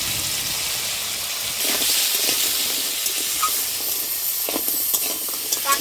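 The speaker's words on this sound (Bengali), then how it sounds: "লবণ আর হলুদ দিয়ে কাঁকড়া ভালো করে ভেজে নেব" Crabs fry in a wok with salt and turmeric, making a continuous sizzle that swells louder partway through, with a few scraping stirs and light clicks.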